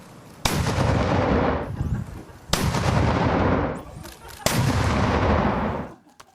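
Artillery fire from military exercises at Poček sounds as three heavy booms about two seconds apart, each with a long rolling rumble that fades before the next blast.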